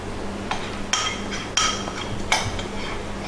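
Spoon or spatula scraping melted chocolate in a bowl, with a few sharp clunks and clinks against the bowl's sides over a steady background hiss.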